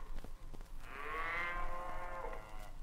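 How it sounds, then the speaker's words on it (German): A cow gives one long, drawn-out moo that rises and then fades, heard up close over a steady outdoor background hum in a 1975 German radio play, with no speech. "Das sind die Kühe."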